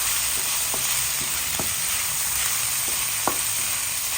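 Onion, garlic and ginger sauté in oil for lugaw (arroz caldo), giving a loud, steady close-up sizzle with a few sharp pops and crackles scattered through it, and no voices.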